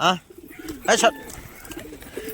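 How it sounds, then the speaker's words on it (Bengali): Pigeons in a loft busily pecking at grain on a feeding plate give soft throaty coos, with one clear coo at the start and another near the middle, close by, amid light rustling and scattered background voices. "তো পায়রা এখন খাওয়াই খুবই ব্যস্ত"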